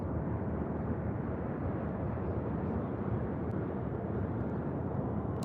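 A United Airlines Boeing 737-900ER jet airliner departs LAX, its engines giving a broad, steady roar that holds at constant strength throughout, with no voices.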